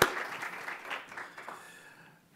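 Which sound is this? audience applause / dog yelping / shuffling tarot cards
audience applause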